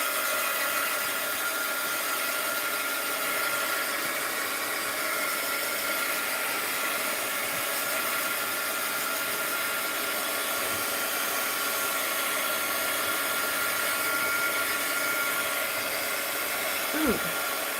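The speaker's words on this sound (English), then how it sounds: "I think I'll hit this with the heat gun" A heat gun blows hot air over a craft surface of melted crayon and teabags in a steady, close, unbroken whoosh that lasts the whole stretch.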